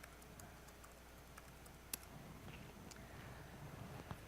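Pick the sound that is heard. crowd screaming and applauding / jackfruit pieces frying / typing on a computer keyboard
typing on a computer keyboard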